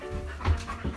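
A new puppy pants in quick, breathy bursts close by, with a couple of louder huffs standing out in the one-second stretch.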